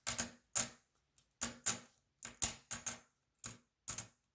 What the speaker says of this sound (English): one of the things I really want them to hear is just listening to the sound of real silver.